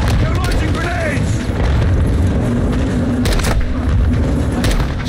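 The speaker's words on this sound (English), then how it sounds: "They're launching grenades!" Grenade blasts in Call of Duty Modern Warfare 2 land as loud, heavy booms over continuous battlefield rumble and gunfire, filling the whole stretch with dense, close combat noise.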